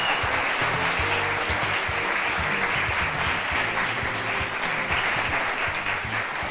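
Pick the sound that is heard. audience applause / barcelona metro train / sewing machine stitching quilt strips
audience applause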